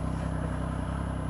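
A Triumph Speed Triple 1050 motorcycle engine held at a steady, fairly high idle, droning continuously with a low mechanical rumble and no talk.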